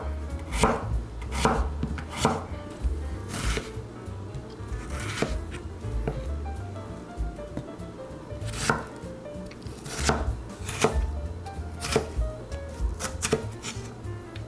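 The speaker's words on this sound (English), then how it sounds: "Lastly, we're gonna prepare our potato. And one last time, we gotta cut them the same size as the carrots" A knife chops a potato on a cutting board into even pieces, sharp repeated thuds landing in irregular bursts, close and fairly loud with no talking.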